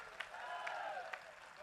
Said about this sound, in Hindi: यही तेवर सुनना चाहते हैं तो उठाइए एक बार आकाश भर तालियां